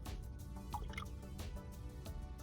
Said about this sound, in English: we're going to add the recommended dose into this tank